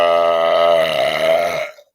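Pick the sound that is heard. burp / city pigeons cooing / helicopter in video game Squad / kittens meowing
burp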